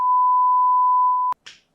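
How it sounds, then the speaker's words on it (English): A censor bleep covers a word with a single steady tone lasting over a second, loud and clean, cut off sharply by a click and a short breathy scrap of voice. "Beep that out, editor, please"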